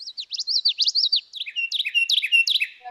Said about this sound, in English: we listen to the Carolina wren, and then we also listen to the common yellowthroat